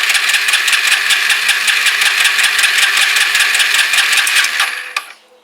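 Kawasaki BN125 Eliminator motorcycle engine running with a rapid, steady mechanical beat for about five seconds, loud and close, then cutting out and dying away.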